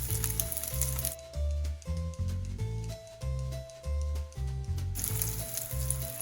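Crab cakes, some coated and one uncoated, sizzle in oil in a non-stick pan. A steady frying hiss is clearest at the start and end, and a stepping musical melody plays over it in between.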